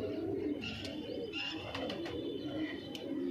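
Punjabi Malwai pigeons coo softly in a loft, low repeated rolling calls with a few faint chirps layered over a steady quiet background hum, no voices.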